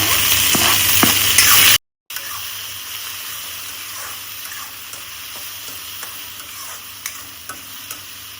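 Tomatoes and capsicum stirred into hot oil in a home kitchen pan, a steady close sizzle with scraping spoon strokes throughout, briefly cut off by a short silent gap near the start.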